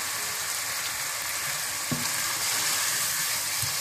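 Chicken for degi biryani frying in a pan with turmeric, salt and kewra water added, a steady close sizzle with a few stirring clunks and no talk.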